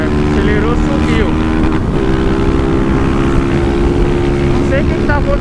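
A Honda Titan 160 motorcycle with a misfire, its engine revving loudly and continuously with wavering pitch, heard up close against heavy wind noise.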